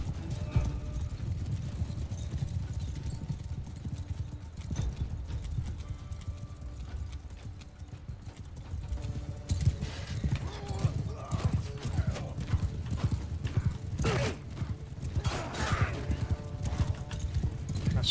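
Horses in Mount & Blade II Bannerlord clip-clop steadily in a fast rhythm, with occasional whinnies and metallic gear rattles rising over the hoofbeats; a voice talks at times.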